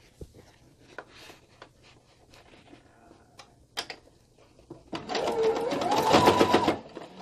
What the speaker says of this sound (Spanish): Y continuamos cosiendo.